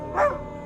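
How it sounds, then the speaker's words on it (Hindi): A dog outside a house gives one brief, whimpering howl that rises and falls quickly, fairly faint over a low background drone. "फिर बाहर किसी कुत्ते की रोने की आवाज़ आ रही,"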